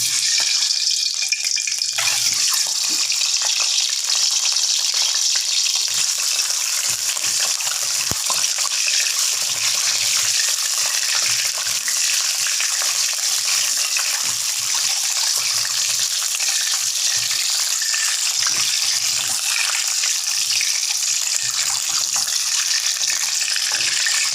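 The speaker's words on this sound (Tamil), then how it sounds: "நான் கொஞ்சமாக எண்ணெய் ஊற்றி முட்டையை லேசாக வதக்கிடும்." Eggs fry lightly in a little oil for chicken egg sambal, a dense, steady hiss of sizzling that continues without a break and with no talking.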